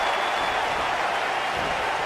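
An arena crowd in WWE 2K19 roars and claps in a dense, steady wash of cheering that stays loud and even throughout.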